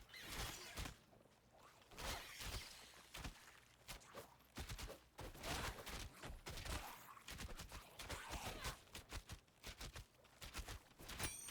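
Gunshots in the Titan Quest 2 video game, sharp, irregular bursts and scattered single shots mixed with whooshing effects and footsteps, fairly faint throughout.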